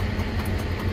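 A big SNCF CC72100 diesel locomotive idles steadily, a close, continuous low rumble with no voices over it.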